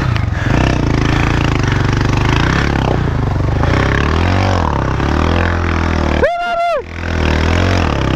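A motorcycle engine droning loud and close while riding down a river, a steady low rumble with shifting whine and clatter, briefly cut by a sharp warbling tone near the end.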